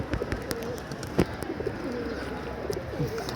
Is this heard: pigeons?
yes